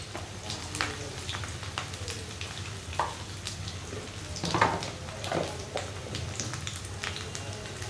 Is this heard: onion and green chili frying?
yes